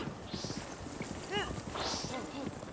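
Horse hooves clip-clopping in the video game Zelda Breath of the Wild, a quick steady rhythm of soft hoof beats heard close, with faint tonal game sounds over them.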